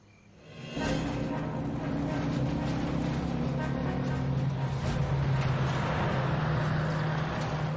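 A vehicle approaching, its engine rumble swelling quickly from near silence into a loud, steady drone that holds and grows slightly stronger as it nears.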